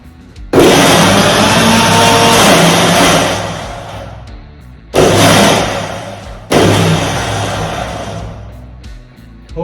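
A Havells Stilus 500W mixer grinder runs loud and close with a harsh whirring roar, stops briefly, then restarts in two more short bursts that cut off abruptly.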